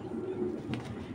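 A large female Army pigeon gives a soft, low coo close by, a single murmured phrase over quiet background.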